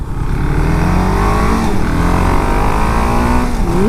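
A 2018 KTM Duke 690 single-cylinder motorcycle engine accelerates hard, a loud, close revving drone with a rising pitch toward the end as it pulls through the gear.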